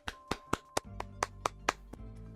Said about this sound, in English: I had to give my authentic claps for that